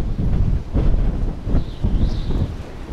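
Strong gusting wind by the sea in a hurricane-force storm, a rough low roar buffeting the microphone in surges, with a faint thin whistling howl rising above it, loud and close with no speech.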